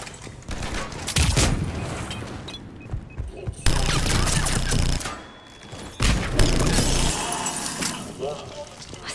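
Gunfire rattles in Mass Effect 3 during an assault on Omega, with dense bursts of automatic shots, sharp impacts and breaking sounds, pausing briefly between volleys, with voices talking.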